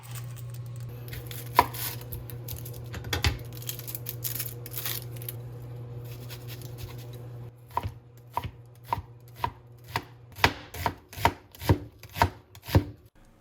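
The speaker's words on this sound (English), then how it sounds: "I'm going to quickly chop up a small onion." Knife chopping a small onion on a cutting board, irregular cuts at first over a low hum, then a steady run of about a dozen close, crisp rhythmic chops.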